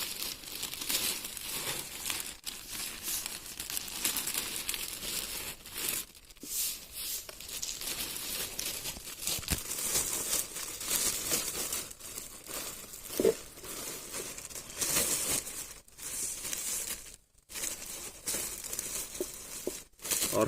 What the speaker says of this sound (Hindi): पैरा डालेंगे।